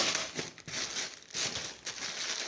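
Plastic packaging tightly wrapped around a new blouse crinkles and rustles in short bursts as it is pulled open by hand, close up and alone.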